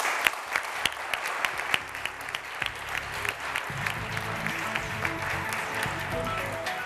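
Studio audience applause on a Turkish television word-game show, a dense, steady wash of many hands clapping that carries on throughout, with sharp individual claps popping out near the microphone and faint voices mixed in.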